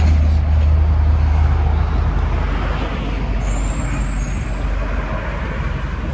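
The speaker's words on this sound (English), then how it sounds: "Trams are so loud. Truck." Loud rumbling road traffic with a heavy truck passing close by, its engine droning steadily and a brief high hiss of air brakes.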